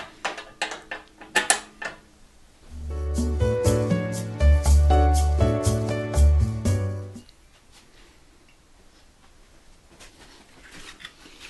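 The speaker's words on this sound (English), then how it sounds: "This should be easy, is to find the right size wrench, and off it comes." A wrench works loose a car antenna, giving a few light metallic clicks followed by a steady ratcheting, grinding run of several seconds, then quieter clicks and shuffling.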